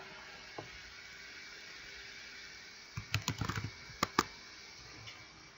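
Keystrokes on a computer keyboard, a short cluster of quick taps followed by two sharper presses, faint and isolated over a quiet room hum.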